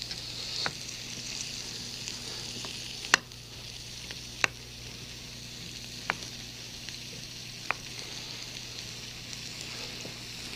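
Beets and other vegetables fry in a flat tin frying pan, giving a steady low sizzle broken by a few sharp clicks of the stirring utensil against the pan, with no talking.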